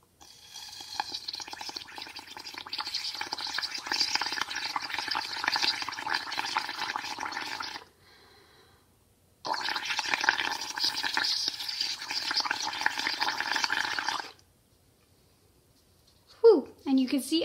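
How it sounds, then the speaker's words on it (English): Bubbling burble of air blown through a straw into a cup of food-coloring paint, two long sustained bursts separated by a pause, close and steady, with a brief voice near the end. "Take your straw and blow into the end, just like when you were young and you would blow bubbles in your milk"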